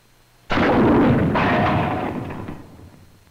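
An M6 bazooka anti-tank rocket strikes heavy steel armor plate in a single sudden, loud blast with a rumbling roar that decays over a few seconds, heard alone.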